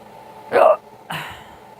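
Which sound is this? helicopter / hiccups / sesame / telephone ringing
hiccups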